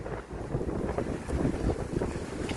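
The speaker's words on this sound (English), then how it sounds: "It's still windy though, so it's not bad. I hope it doesn't hamper this recording too much" Outdoor wind buffets a microphone on a sunny, windy day, giving a continuous low rumbling roar with gusty fluctuations and no speech.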